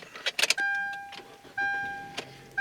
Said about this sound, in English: let's hop in, let's start it up